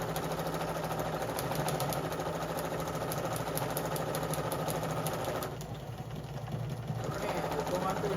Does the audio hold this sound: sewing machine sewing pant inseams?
yes